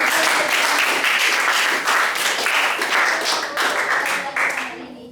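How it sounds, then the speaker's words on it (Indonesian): A classroom of students applauds a classmate during a biology lesson on viruses, the clapping full and steady before fading out at the end, with a little speech mixed in. "Terima kasih, tepuk tangan untuk Saudara."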